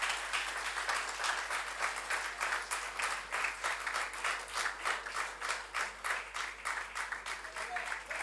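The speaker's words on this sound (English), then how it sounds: "A big round of applause, please." Steady applause from an audience, a dense patter of clapping that carries on evenly at moderate, somewhat distant volume.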